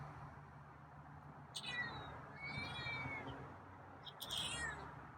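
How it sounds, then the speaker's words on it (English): A feral cat meows a few times, high and drawn-out, against a steady outdoor background hum; moderately close and clear. "finally meowed"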